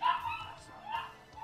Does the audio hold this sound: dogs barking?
yes